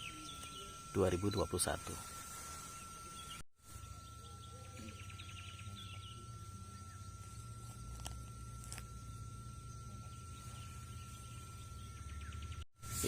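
Birds calling on the forested slopes of Mount Merapi, a few short chirps early on, then faint sparse calls over a steady low rumble, with someone talking.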